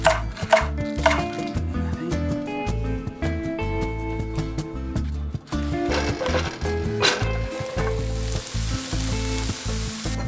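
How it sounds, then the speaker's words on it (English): Red pepper, mushrooms and green onion being chopped on a cutting board for a tofu stir fry, a busy run of close knife knocks, partly overlapping, with music playing underneath. "we're gonna chop up some veggies really quickly for the tofu stir fry"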